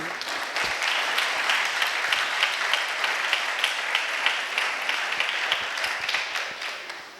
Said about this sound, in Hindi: मैं चाहना इस खुदा दे बंदे लिए जोरदार तालियां।